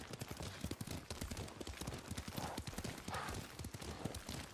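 Rapid, steady clip-clop of horse hooves at a gallop in the video game Ghost of Tsushima, fairly quiet and continuous, with a faint whinny partway through.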